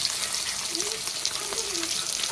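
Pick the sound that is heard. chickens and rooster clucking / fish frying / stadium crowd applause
fish frying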